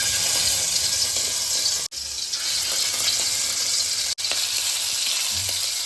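Marinated shrimp seasoned with salt, pepper and yellow mustard paste sizzle loudly and continuously in a hot pan, with a bright hiss that cuts out briefly twice before resuming at full strength.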